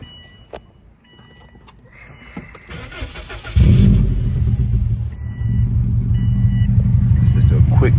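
A Subaru WRX turns over and fires up loud and close, settling into a deep, steady idle with a couple of throttle blips rising over it; a voice talks briefly before the start.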